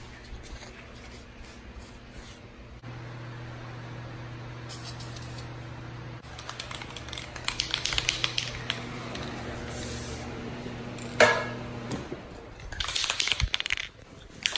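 Car parts are spray painted during a brake job, with short hissing bursts from an aerosol can, some clicks and rattles of handling between them, and a steady low hum in the background.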